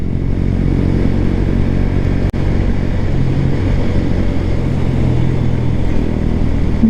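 Honda CB 125 Hornet motorcycle climbing a hill road in fourth gear, its small engine droning steadily and loudly up close over wind rumble, with one brief dropout midway.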